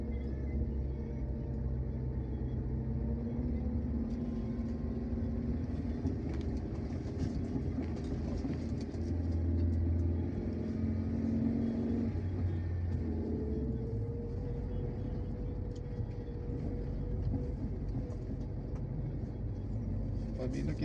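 Steady low rumble of slow, heavy highway traffic dominated by large trucks on the Jalan Lintas Timur near Betung, with engines droning close by and a brief deeper surge midway.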